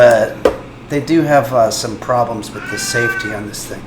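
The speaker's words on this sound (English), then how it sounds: "Sorry, that's my cat." A cat meows and caterwauls several times in a kitchen, its drawn-out cries rising between and over a man's nearby speech.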